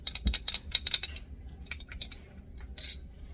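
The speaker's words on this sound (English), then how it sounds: "grab butter knife. And we'll stir it a little" A metal butter knife stirs and taps in a small container, giving quick clustered clinks and scrapes, close and crisp, with brief pauses between bursts.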